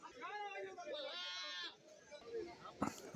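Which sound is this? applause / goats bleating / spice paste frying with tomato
goats bleating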